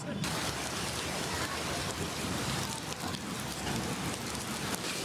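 Steady, dense hiss of rain pouring onto surfaces, loud and close, with no talk over it.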